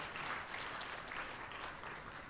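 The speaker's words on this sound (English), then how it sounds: "Can we give them an amazing round of applause?" A workshop audience at a women-in-AI event claps for the presenters, a steady round of applause heard faintly from a distance throughout.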